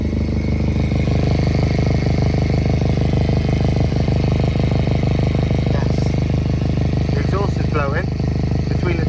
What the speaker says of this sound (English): Blowing between the turbo and the manifold, and it's blown right through the turbo blanket.